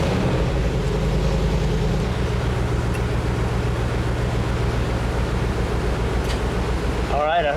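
A mid-engine LS-swapped hot rod idles with a loud, steady low drone, and its AC compressor clutch engages early on, shifting the engine's hum under the added load. A brief voice sounds right at the end.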